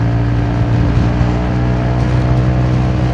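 A Honda Forza 350 scooter fitted with a DIY open air filter runs loud and close, its engine holding a steady droning hum with a throaty intake note throughout.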